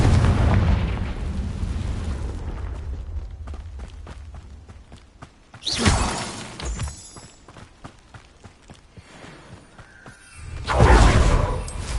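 Two loud, broad blasts from a Confringo fire spell in Hogwarts Legacy, one near the middle and one at the end, each a sharp burst with a rushing tail, over busy rumbling game background with scattered clicks.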